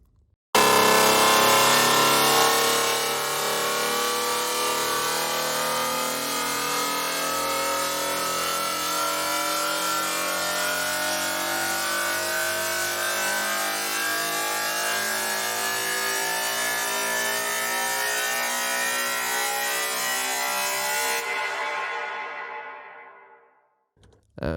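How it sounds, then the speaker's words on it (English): A Trypticon synth riser from Sick Noise Instruments hits with a harsh, dense wash of noisy tone that holds loud and bright, then fades out through a long decaying tail. "And what a nice tail on that riser."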